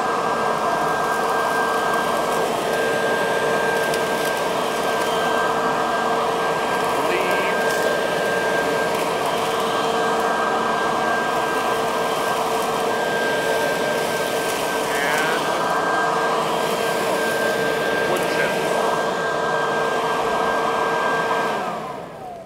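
A yard vacuum mulcher grinds up grass clippings in a steady, loud, continuous roar with a whining motor tone, running unbroken for the whole stretch with no talk.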